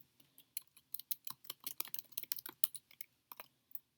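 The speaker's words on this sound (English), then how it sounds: "So we're going to just type in a title here." Typing a title on a computer keyboard: a rapid, uneven run of close, crisp keystrokes lasting several seconds with brief pauses, in a quiet room.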